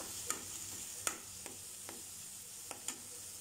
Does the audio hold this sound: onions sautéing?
yes